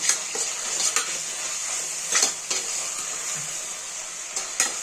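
Mint, coriander and green chilies sizzle in hot oil for Chettinad chicken biryani while a metal spoon scrapes and clinks against the pan in irregular stirring strokes, close by and with no talking.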